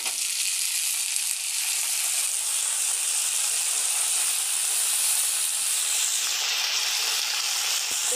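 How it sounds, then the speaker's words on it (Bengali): Old potatoes fry in hot oil with a loud, dense, continuous hiss that holds steady for several seconds without talking. "আমি এই জন্য আলুটা অল্প একটু আগে ভেজে নেবো"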